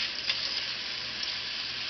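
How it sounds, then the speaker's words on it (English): Constant bright hiss of chicken sautéing in a frying pan, steady and close without pauses. "we're going to saute the second side for about 3 to 5 minutes until it's completely cooked through"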